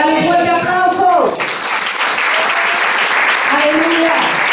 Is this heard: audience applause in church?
yes